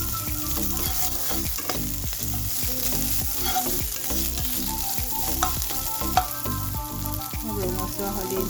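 Spices and ingredients fry and sizzle in a pan for an Assamese mati dali khar, with a spoon stirring and scraping now and then, a steady close crackle with no voices.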